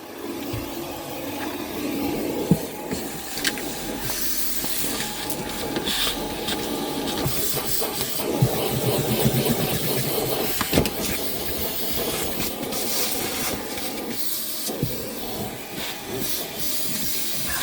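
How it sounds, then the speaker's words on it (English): A small, not very powerful hoover vacuum cleaner runs inside a partner's car, giving a steady broadband hiss and whine with bumps and knocks as the nozzle moves around, close and continuous throughout. "we're going to hit this and see what I can get up with the hoover"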